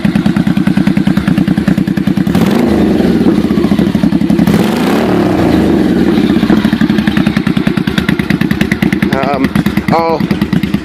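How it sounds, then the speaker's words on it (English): A Honda Shadow motorcycle engine idles with a steady, deep thumping pulse, close and loud throughout, with a brief rise in revs near the end. "It's kind of got that cool, thumper sound to it"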